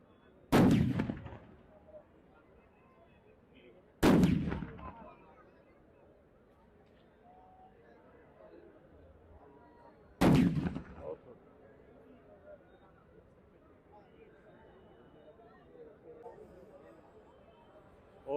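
Firecrackers go off at a Dussehra fair in Barnala, three sharp, loud bangs spaced several seconds apart, each with a brief crackling tail, over a murmuring crowd with voices talking.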